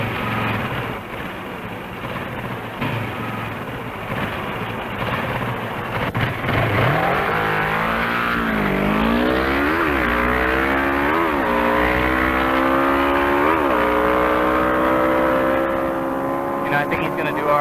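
A Suzuki GS motorcycle launching off a drag strip starting line, its engine rising through rapid upshifts in repeated climbing sweeps, loud and continuous under a talking voice.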